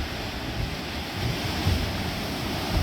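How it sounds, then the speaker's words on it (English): Ocean waves roll onto the rocky coast of Bornholm on a cloudy, windy day, a steady loud wash of surf mixed with gusting wind buffeting the microphone. "some of the ocean coming in."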